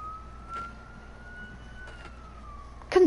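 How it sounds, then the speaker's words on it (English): A police car siren in the video game Detroit: Become Human holds a steady wail at a distance, faint and continuous, with a brief louder noise at the end. "that's the second time a police car has come"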